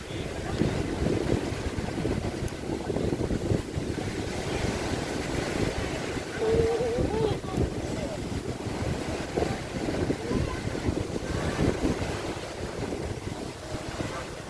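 Evening sea waves roll and wash up on a beach as the tide comes in, under strong, cold, buffeting wind that blasts the microphone in a steady, loud roar, with a faint voice now and then.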